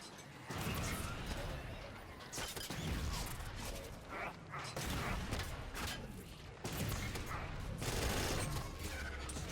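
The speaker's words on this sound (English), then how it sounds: "Now I'm going to hop on the Gauss turret, and this will really help clear out the enemies kind of up here by the front gate." Gauss turret firing near the front gate in Halo 5, heavy repeated blasts and impacts layered with battle noise, loud and dense throughout, with brief voice sounds mixed in.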